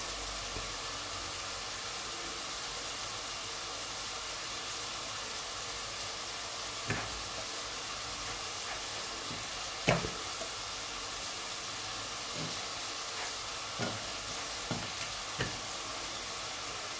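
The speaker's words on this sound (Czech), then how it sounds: "No a nepočkám, až budu mít smaženou cibulku." A steady, even sizzle of onions frying in a pan, close up, with a few light clinks of stirring.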